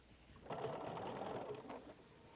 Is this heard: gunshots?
no